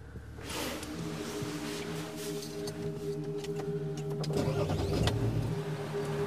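Car engine starting and driving off, a steady idling hum that swells into a louder rising rev and rumble as the vehicle pulls away, close by with no talking.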